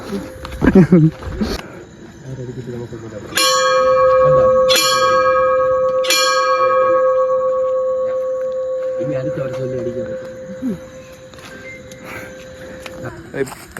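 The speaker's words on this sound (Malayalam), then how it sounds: "ദൈവൻ്റെ മണിയടിയാണ് സുഹൃത്തുക്കളെ" Church bell at Kurishumala rings in a few loud clanging strikes with long humming decay, after a brief stretch of talk, then fades as voices return.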